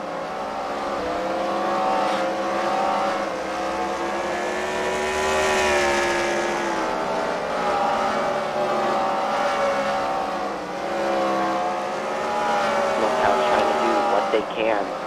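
Race cars roar around an oval track at a Fight Night main event at the Freedom Factory, with layered engine drones rising and falling steadily as the leaders come out of the final turns, under continuous commentary.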